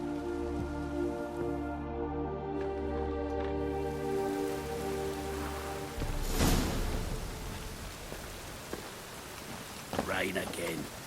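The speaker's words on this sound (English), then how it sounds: "Rain again." Rain falling in the video game The Witcher 3, a steady hiss of rainfall beneath a sustained musical drone, with a brief rushing swell midway.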